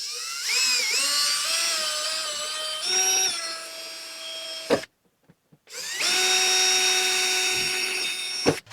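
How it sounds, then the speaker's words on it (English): A power drill whines at high pitch in two long bursts, drilling pilot holes in a Datsun 280Z fender, its motor pitch shifting as it bites, with a short pause and clicks between runs. "Now we drill our pilot holes."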